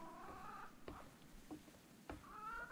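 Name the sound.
cat meowing in the video game Reka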